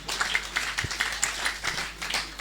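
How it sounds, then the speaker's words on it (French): A congregation at a charismatic church convention claps together in a steady, rhythmic patter of many hands, held at a modest, somewhat distant level with no voices over it. "Nous applaudissons pour les gagnants."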